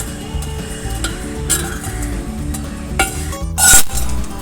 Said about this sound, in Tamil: பெருங்காயம் நல்லா ஃப்ரை ஆகிடுச்சு